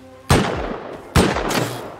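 Two sharp, loud gunshots from the video game Rust, roughly a second apart, each a hard crack followed by a short decaying echo.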